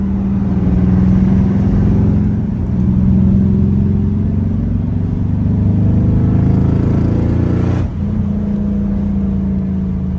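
A car engine drones loud and steady while driving, with a brief dip and a shift in pitch near the end as it revs on.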